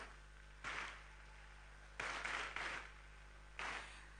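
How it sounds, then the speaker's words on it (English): Applause for young hackathon participants at a final pitching round comes as three short, quiet bursts of clapping separated by near-silent gaps over a low background hum. "So let's give a round of applause for amazing young hackers."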